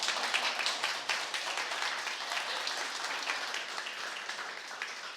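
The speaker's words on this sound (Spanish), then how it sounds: "yo pensé que ustedes iban a aplaudir" Sustained applause from a church audience during a sermon, a dense wash of many hands clapping at steady loudness throughout.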